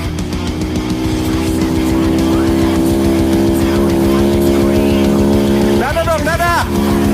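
A trail motorcycle idles and revs loudly nearby with a steady, throbbing low-pitched engine drone, as riders prepare to head up a rainy mountain trail toward the first post on Sindoro, with voices briefly heard near the end.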